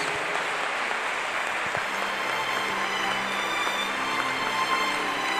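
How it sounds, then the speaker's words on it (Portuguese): A church congregation applauds steadily and fairly loudly, a dense, even clapping that holds throughout without a break. "Vamos dar uma talentosa salva de palmas para o Espírito Santo de Deus."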